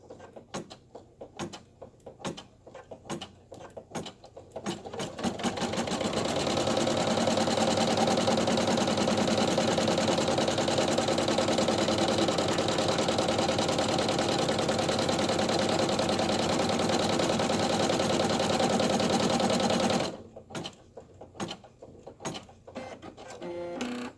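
A machine runs a finishing stitch to close the headband channel on a 3D foam ear, a steady dense whir lasting about fifteen seconds, with quieter clicks and handling before and after.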